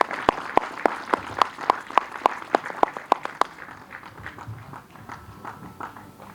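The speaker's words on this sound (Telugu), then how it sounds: "మీరు అందరూ మీ చప్పట్లతో ఆశీర్వదిస్తే" An audience at an awards ceremony for a drama competition claps in a steady rhythm of sharp, evenly spaced claps, then breaks into looser, scattered clapping that fades toward the end.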